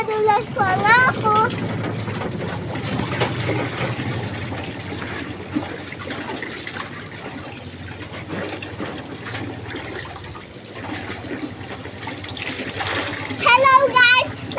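Steady splashing and running water while people bathe, continuous and fairly loud, with children's voices and excited talk over it at the start and end.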